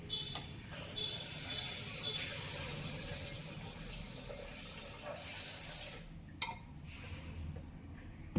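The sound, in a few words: water added to chicken with vinegar for washing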